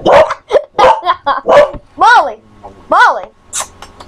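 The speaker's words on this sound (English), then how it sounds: "If you guys can hear that, that's my dumb dog." Dog barking indoors: a few sharp, close barks ring out among a person's nearby voice and other short vocal sounds.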